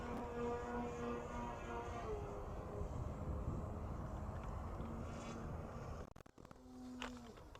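A Precision Aerobatics Katana 60 RC aerobatic plane drones overhead with a steady engine whine whose pitch shifts during slow torque rolls, heard in windy outdoor conditions with wind buffeting the microphone near the end.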